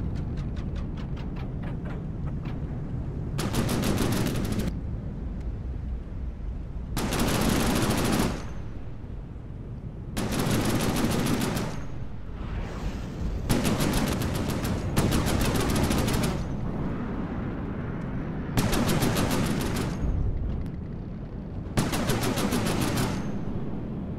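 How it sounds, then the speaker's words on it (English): Side guns on a warship in the naval combat game From the Depths fire in repeated loud bursts of rapid automatic shots, separated by pauses over a steady low rumble. "There we go, one of the side guns is also firing."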